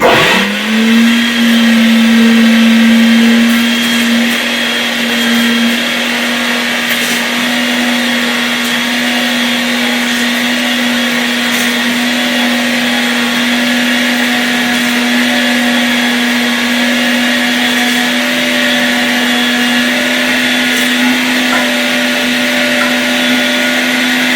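A 500W electric meat grinder running steadily while processing bear meat, a loud constant motor whine with a slight dip in pitch early on, then an even drone throughout, no talking.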